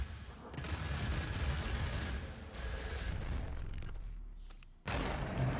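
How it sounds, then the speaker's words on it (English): Dense, continuous crackling bursts of rapid simulated gunfire in the video game Rainbow Six Siege fill the clip, dipping briefly before a fresh loud volley, harsh and noisy throughout. "Is that supposed to be just like simulated gunfire?"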